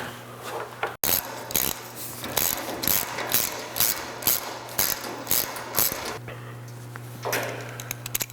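Ratcheting clicks come from the clamps being tightened down on a Jeep Kargo Master roof rack rail, in repeated bursts of metallic pawl clicks at close range with a steady hum underneath and brief pauses between strokes.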